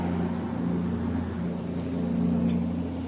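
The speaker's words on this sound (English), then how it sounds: "it was a big truck passing" A big truck passes on a busy street outside, a steady low engine rumble and road drone holding at even loudness throughout, with no voices.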